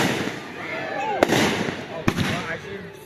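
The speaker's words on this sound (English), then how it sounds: "If you timed it right with the firework." Two sharp firework bursts crack out over a continuous hiss and crackle, with a whistling rise before the first bang and people talking in the background.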